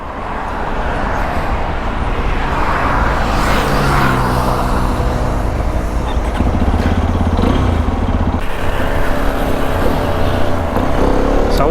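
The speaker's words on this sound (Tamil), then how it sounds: "சவுண்டு பாருங்கள் எப்படி இருக்கு எக்ஸாஸ்ட்" A Hero Xpulse 210 motorcycle engine and exhaust drone loud and steady while the bike is ridden on a trail, with a constant low rumble throughout.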